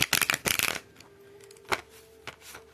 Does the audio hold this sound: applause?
no